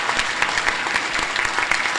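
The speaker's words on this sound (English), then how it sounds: "let's applaud all of the scholarship winners, all of our seniors tonight" Audience at a high school senior honors night applauding scholarship winners, brisk clapping from a crowd that holds steady throughout, moderately loud and close.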